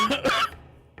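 A single short cough, close and fairly loud, followed by quiet.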